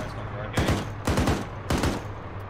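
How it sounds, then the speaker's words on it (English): Three bursts of gunfire in the ARMA 3 military shooter, each a quick cluster of two or three sharp shots spaced about half a second apart, moderately close over a steady low hum, with no talking. "I don't know what that was, a shot"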